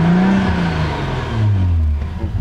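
A Toyota JZX90 Mark II Tourer V fitted with a pod filter drives past close by. Its engine note rises and falls in smooth sweeping pitches, loud and on its own with no speech.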